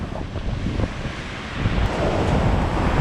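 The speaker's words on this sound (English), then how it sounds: "And we're going to get belted by this wave." Ocean waves break and wash against an island coastline, a loud continuous roar of surf mixed with gusting wind noise on the microphone, with no talking.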